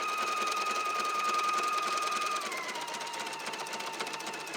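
Home embroidery machine stitching an edge-to-edge quilt pattern, a steady fast mechanical whirring and needle chatter running continuously, close and fairly loud, with a slight drop in pitch partway through as the arm changes speed; no voices.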